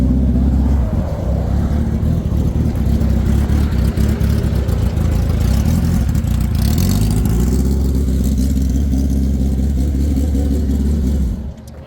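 Vehicles race at speed on a roadside, heard from a riding motorcycle, a loud continuous engine drone with wind rush and rumble, easing off near the end.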